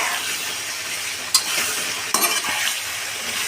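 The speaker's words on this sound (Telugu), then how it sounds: "కట్ చేసి పెట్టుకున్న పచ్చటికాయ ముక్కలు వేసేద్దాం. పచ్చటికాయ ముక్కలు వేసిన తర్వాత 1 స్పూను సాల్ట్, తర్వాత ఒకసారి బాగా గరిటతో కలుపుకుందాం" Raw green banana pieces fry in hot oil, a continuous sizzle broken by a few sharp clinks as a ladle stirs them around the pan.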